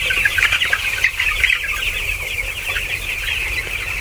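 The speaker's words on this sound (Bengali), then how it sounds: "যে মুরগিটা দেখাচ্ছে এটা আজকে বয়স 15 দিন। এটা প্যারাগনের বাচ্চা প্লাস প্যারাগনের ফিট।" A 15-day-old Paragon breed chick clucks and cheeps repeatedly, close and clear, with a steady run of high calls and no talking.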